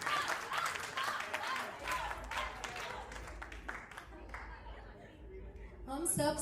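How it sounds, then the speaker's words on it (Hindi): Applause and clapping from a family audience after a sangeet dance performance, with chatter and light laughter mixed in, the clapping loud at first, then thinning out before a brief swell at the end. "तालियां बजती रहनी चाहिए, कोई कंजूसी मत करना तालियों में।"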